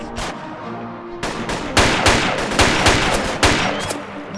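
Gunfire in the ARMA 2 Project Reality military game, a quick shot or two, then a heavy stretch of repeated loud shots and bursts with echoing tails, close and intense.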